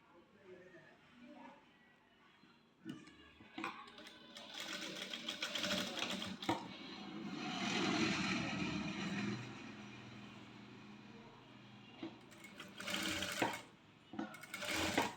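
A sewing machine stitches fabric for a maxi top in bursts of rapid whirring runs, some longer and louder, separated by pauses, with someone talking quietly in between.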